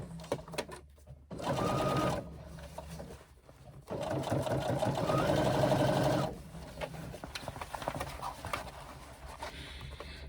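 An industrial sewing machine stitches a swim bag seam up close, running in two loud sustained bursts with short pauses and quieter handling noises between them.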